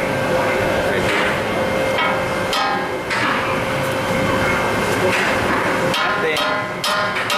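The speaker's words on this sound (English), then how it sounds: "we're just going to tap the knuckle a little bit here, and that thing's going to slip right off" Hammer tapping a steering knuckle loose on a 2004 Toyota 4Runner during a Rough Country 3-inch lift install, with a few sharp metallic knocks over steady workshop noise while someone talks.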